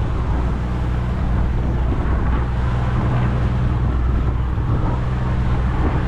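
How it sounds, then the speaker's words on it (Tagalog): Strong wind buffets a boat at sea, a steady loud roar of gusting air and low engine-like rumble with no pauses. "Ayun, lakas ng hangin."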